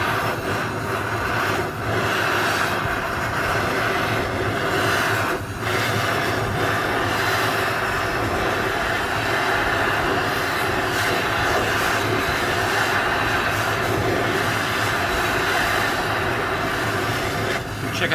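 A gas torch flame roars steadily while heating a 100 Lira coin from Turkey for annealing, a continuous close hissing rush that holds with little change.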